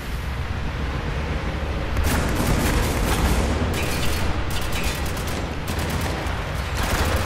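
Sustained gunfire in the shooter game Spec Ops The Line, a dense, continuous barrage of shots and booms with bursts of sharper cracks, loud and steady throughout with no talk.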